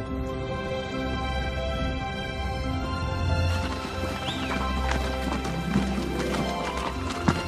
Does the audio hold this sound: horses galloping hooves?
yes